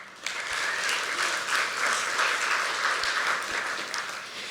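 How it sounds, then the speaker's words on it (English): A community arts summit audience applauds themselves, with a broad burst of clapping that swells in quickly, stays full and even, then eases slightly at the end. "please give yourself a round of applause as well"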